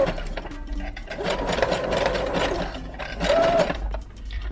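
A sewing machine stitching a zigzag seam while a box braid crochet headband wig is being made: a continuous fast mechanical whirr with a steady rhythmic needle chatter, close by and with no talk.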